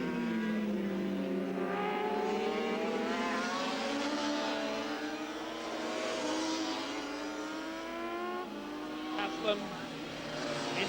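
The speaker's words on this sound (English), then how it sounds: "Ron Haslam sets off in pursuit of race leader Wayne Gardner" Superbike motorcycles race in a 1983 event, with engine whines rising and falling in pitch as the bikes accelerate and pass, mixed with a voice talking over them.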